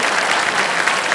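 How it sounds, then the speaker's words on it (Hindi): Studio audience applause on a Hindi television quiz show, Kaun Banega Crorepati, a dense, steady wash of many hands clapping close and loud throughout, with no voices breaking through. "तालियां बजती रहे देवेश सजू इनके लिए।"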